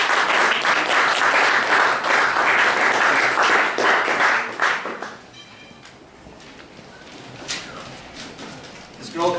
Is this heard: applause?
yes